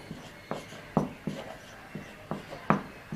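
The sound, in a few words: writing on a board during a lecture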